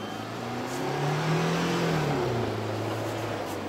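A car engine revved at full throttle while stuck in mud during a Land Cruiser recovery, its note rising and then dropping back, loud and sustained, with no talk.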